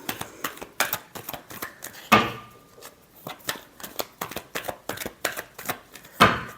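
Tarot cards being shuffled by hand during a love reading, crisp rapid riffles and slaps in quick bursts with two louder snaps, close and without talk.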